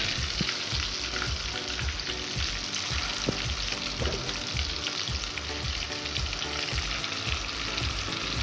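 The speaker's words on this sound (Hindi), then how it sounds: "ये हमारे कबाब मीडियम फ्लेम में फ्राई हो रहे हैं।" Chicken kebabs fry in hot oil over a medium flame, giving a dense, continuous crackling sizzle with many close popping bubbles, loud and steady throughout.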